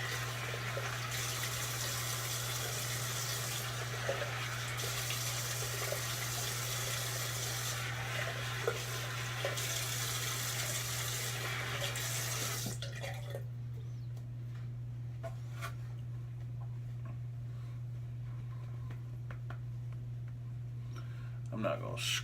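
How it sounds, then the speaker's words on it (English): Cold tap water runs steadily from a faucet as a face is rinsed after a shave, a close, even rushing hiss that carries on for about twelve seconds before cutting off, leaving a quiet room. "Now, let's rinse the face."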